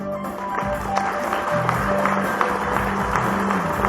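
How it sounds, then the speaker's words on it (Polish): Audience clapping at an award ceremony for the Karpik 2013 prizes, a dense, steady round of applause filling the hall for the full stretch, with faint voices mixed in. "Można klaskać."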